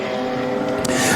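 Improved production race cars at speed on a circuit, a dense, steady engine roar lasting about a second and staying loud throughout with no clear pass-by swell.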